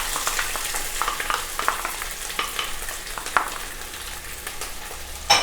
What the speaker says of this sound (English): I'll fry it a little bit. Ghee, cardamom and ginger.